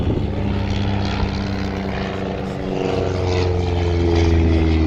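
Two vintage Chipmunk training aircraft cross over at the East Kirkby airshow, their propeller engines droning loud and close, swelling steadily as the pair passes overhead.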